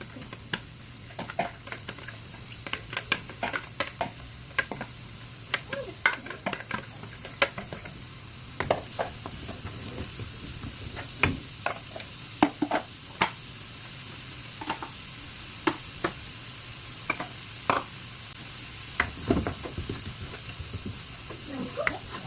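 Onion and garlic frying in oil for beef rendang, a steady close sizzle broken by frequent sharp clicks and scrapes of stirring throughout.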